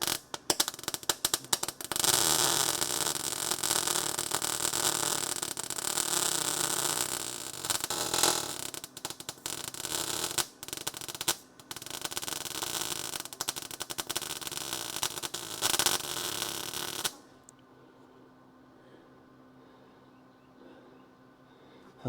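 Harsh continuous crackle of a welder running a seam along the body of a Charger crew cab under restoration, loud and close for about seventeen seconds with brief breaks, then the arc stops and only quiet shop hum remains.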